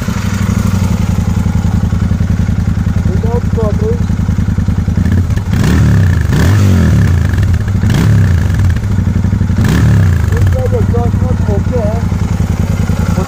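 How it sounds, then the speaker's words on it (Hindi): A Royal Enfield Continental GT 650 twin idles with a steady, throbbing exhaust note, then takes several sharp blips of the throttle in a row, close and loud, with someone speaking over it. "so first exhaust note"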